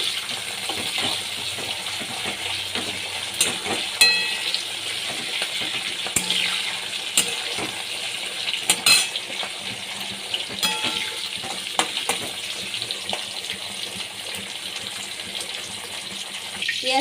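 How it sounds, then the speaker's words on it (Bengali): Onion greens fry in a pan with black cumin seeds, giving a steady close hiss and sizzle that runs throughout, with occasional small pops and clinks. "পেঁয়াজ কলিগুলো আমি ভেজে নিচ্ছি"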